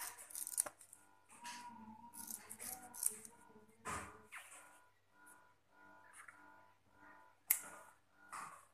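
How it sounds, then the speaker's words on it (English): Scissors snipping through Velcro strips, a few close, crisp cuts and rustles at a tabletop, fairly quiet and spaced out. "So now we have to cut Velcros and we have to attach it."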